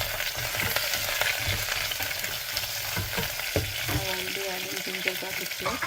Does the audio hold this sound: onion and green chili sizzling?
yes